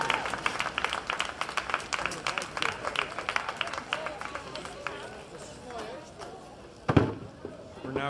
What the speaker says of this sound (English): Have a big round of applause for all of our 65 to 69 men in that scratch race.